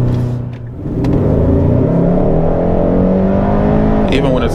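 Engine of a 2022 Hyundai Sonata N Line pulls hard under acceleration, revs climbing and dropping through quick gear shifts, loud and close from inside the cabin for a few seconds.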